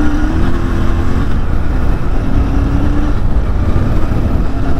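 A Royal Enfield Continental GT 650 motorcycle engine pulls hard under acceleration, a loud, steady close-up drone with a rising tone running through the whole stretch, mixed with wind rush.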